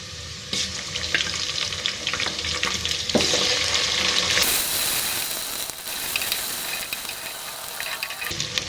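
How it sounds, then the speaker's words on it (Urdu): Garlic-ginger paste fries with onions in a pan for beef paye, a steady close sizzle with scraping stirs and a brief splash of water partway through, no talk. "اس کے اوپر ہم لہسن ادرک کا پیسٹ ڈال دیتے ہیں۔"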